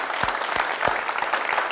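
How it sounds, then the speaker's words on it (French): Audience applause on a French television variety show, a steady patter of hands with a few sharp, louder claps standing out near the start, moderately close and without talk. "on peut applaudir pour Eldad"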